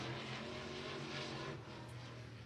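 Race car circling a dirt track during qualifying at Golden Mountain, a steady distant engine drone with a slight rise and then easing as it passes.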